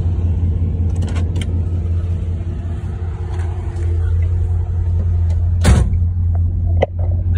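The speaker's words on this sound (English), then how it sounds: "Sounds like an old car still, has glass packs on it" A rough, throaty 1962 Chevrolet Impala engine with glass pack exhaust idles loudly and steadily up close, its low exhaust rumble constant, with a couple of sharp clunks near the end.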